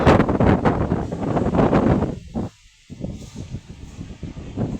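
Strong wind roars and buffets the microphone in loud gusts during rain, dropping briefly to a lull before rushing back.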